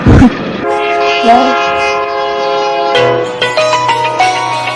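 A train rumbles past at close range, its horn blaring in long sustained tones, with a few softer whistle blasts over the rolling noise.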